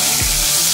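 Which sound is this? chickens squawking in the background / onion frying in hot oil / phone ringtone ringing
onion frying in hot oil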